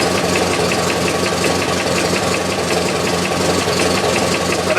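Car engine idling with a knock, a steady dense mechanical drone with faint repetitive ticking running unchanged throughout, fairly loud and close, with no voices.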